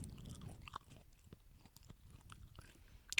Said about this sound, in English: I'm gonna eat a little bit of candy first, real quick.